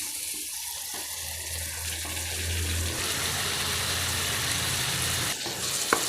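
Chopped onions and tomatoes sizzle steadily in a pan with salt, a soft continuous frying hiss with faint scraping, the sound swelling slightly midway with no talking.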